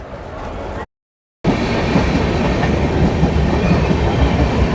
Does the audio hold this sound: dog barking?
no